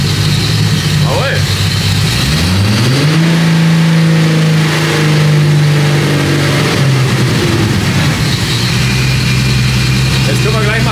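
A car engine revs up, holds a high steady drone, then winds back down, loud and close throughout.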